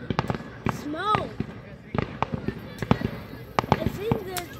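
Fireworks at Hermann Fest 2023: rockets whistle as they climb, then sharp bangs and crackling pops burst at a moderate distance, several in quick succession across the outdoor night air.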